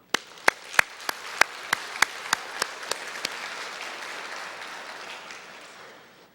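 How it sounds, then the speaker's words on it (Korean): A church congregation applauds during a Sunday worship service, opening with a series of sharp, evenly spaced loud claps that give way to a softer, sustained wash of many hands clapping that fades toward the end. "여러분들의 목자 목녀를 위해서 이 시간에 박수 한번 쳐주시길 부탁을 드립니다"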